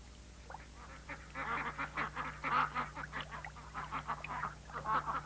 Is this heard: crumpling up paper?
no